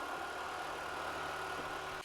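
A tractor engine idles steadily with its cooling fan turning, giving a constant mid-pitched hum and drone that runs unbroken for about two seconds, close and fairly loud, then cuts off abruptly at the end, with no voices.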